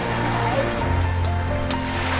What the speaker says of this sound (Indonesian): Di sini ombak